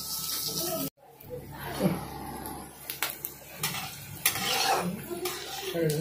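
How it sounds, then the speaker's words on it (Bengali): Peanuts frying in a pan for chirer polau, with stirring scrapes and a soft sizzle running close by under intermittent talk, after a brief dropout near the start. "তবে আস্তে আস্তে বাদামগুলো ভেজে প্রথমে তুলে নেবে"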